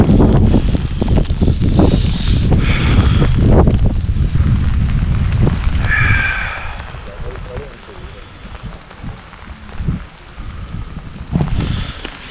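Strong gusting wind roars and buffets the microphone with rain noise underneath on a mountain in Azad Kashmir, Pakistan, at dawn, while a person talks over the storm throughout.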